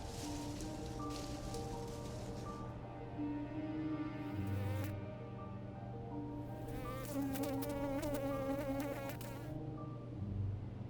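Insects buzzing steadily around the flowers of a Himalayan glasshouse plant, a continuous close drone with wingbeats swelling and fading as they pass, no voices.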